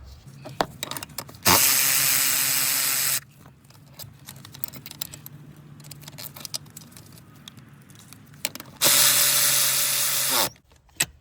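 A power tool on a Hyundai Accent during rough-idle repair work spins in two loud, steady bursts of about two seconds each, backing a bolt out and then driving it back in, with quieter clicks and handling noises between them.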